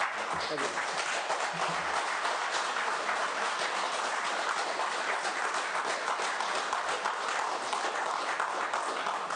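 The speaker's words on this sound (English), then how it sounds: "We don't get applauses too often in this building" Sustained applause fills a Senate budget subcommittee hearing room, dense steady clapping from many hands right after a vote, continuous and fairly loud throughout.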